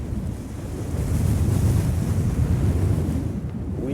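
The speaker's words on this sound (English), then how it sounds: "We have probably seen wind gusts that I would guess are close to hurricane speed." Strong near-hurricane wind gusts roar across an exposed cliff in the Egyptian desert, buffeting the microphone with a loud, continuous rushing that swells and eases.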